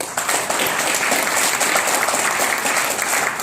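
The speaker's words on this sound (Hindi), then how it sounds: "तो मैं चाहूंगा एक बार मेरे लिए तालियां बजाएं।" Strong, continuous applause from an audience at a multi-level marketing meeting, close and even throughout, with no speech over it.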